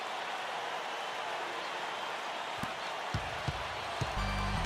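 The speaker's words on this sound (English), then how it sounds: "Boy, how about the intensity and focus of the crowd here? So loud in this place." A loud, steady basketball arena crowd roar from the NBA 2K14 game, a broad continuous wash with a few thumps and a rising murmur near the end.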